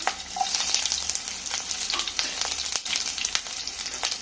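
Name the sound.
onions added to hot oil, frying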